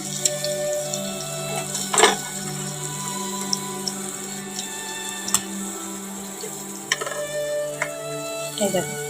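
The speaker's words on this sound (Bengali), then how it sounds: "লাল করে ভেজে নিই" Food frying in a pan until browned for a rohu-style katla fish and potato curry, a steady sizzle with occasional sharp clinks and scrapes of a utensil, close by and without speech.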